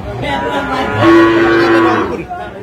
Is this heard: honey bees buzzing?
no